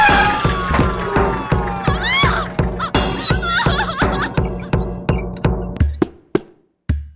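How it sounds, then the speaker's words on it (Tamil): An ambulance siren wails in rising and falling sweeps over a loud, pounding rhythmic beat, then the sound breaks up into scattered hits and stops abruptly. "சட்டுன்னு ஆம்புலன்ஸ் வந்தது"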